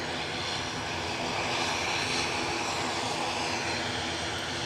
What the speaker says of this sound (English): So the aircraft you are looking at, off to Zurich.